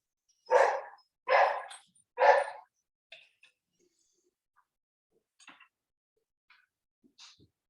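A pet dog in a home kitchen barks three times in quick succession, loud and close, then gives a few faint, scattered yips and whimpers with quiet pauses between them.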